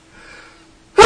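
A single sharp sneeze bursts out loud and close at the very end, after a second of quiet breathing and a faint inhale.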